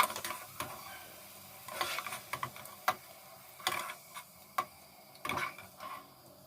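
Fried potatoes are lifted out of hot oil, with a soft sizzle broken by repeated sharp clicks and scrapes of the utensil, close and intermittent, no speech.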